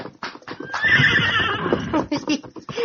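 A horse gives a loud, close whinny that rises and trails off, with hoof clip-clops around it and no speech.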